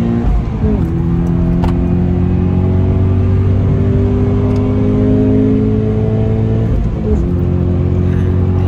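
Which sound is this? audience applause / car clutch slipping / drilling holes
car clutch slipping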